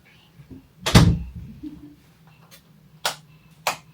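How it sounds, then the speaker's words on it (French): A child closes a bedroom door at bedtime, giving one loud, close thump, followed by a few softer knocks and clicks in a quiet room. "Tu fermes la porte?"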